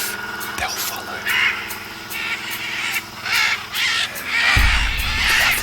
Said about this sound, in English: The others are making a lot of squawking.